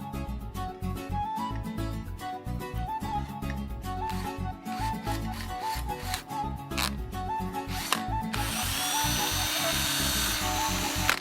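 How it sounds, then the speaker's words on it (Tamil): A hand drill test-spinning a homemade boat setup whirs with a steady, pulsing rhythm, then shifts to a harsher, hissing high-speed spin near the end. "இப்போ நம்மளோட ஹேண்ட் ட்ரில்லரில் நம்மளோட செட்டப்பை ஃபிட் பண்ணி நம்ம ஒரு தடவை டெஸ்ட் பண்ணி பார்த்துக்கலாம்"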